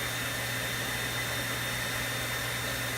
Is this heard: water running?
no